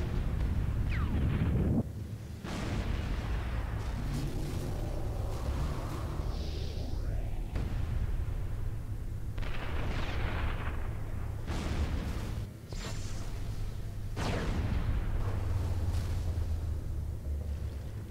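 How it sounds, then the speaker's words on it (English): Explosions in the video game Sniper Elite V2: several heavy booming blasts recur with rumbling tails over a constant low background, fairly distant and muffled, with no talking. "Explosion!"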